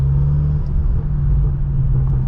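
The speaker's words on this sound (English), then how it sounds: "You hear the turbos before you hear anything else." A tuned 800 HP BMW M6 engine rumbles steadily up close on New York City streets, with a deep low drone and a faint whistle riding on top as the turbos spool.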